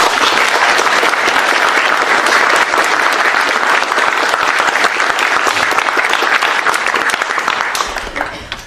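A large audience at a poetry reading in Cambridge bursts into sustained, loud applause welcoming poet Adam Zagajewski, a dense even roar of clapping that fades out at the end.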